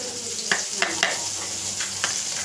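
Vadagam and mustard seeds frying in hot oil while tempering greens, giving a steady sizzle with several sharp pops and crackles scattered through it, close and alone with no talk.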